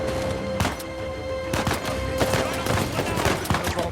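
Gunfire in the video game Uncharted 4, a rapid series of sharp shots and bursts with impacts over a humming game soundtrack, loud and dense.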